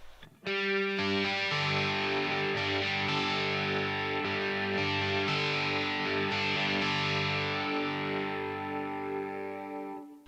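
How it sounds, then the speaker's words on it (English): A sustained, heavily distorted electric guitar chord through an Amped ML Plexi amp with chorus effect rings out alone, with a gentle shimmering wobble in its tone as it slowly fades. "If they just turn on the chorus, you'll quickly hear what it does."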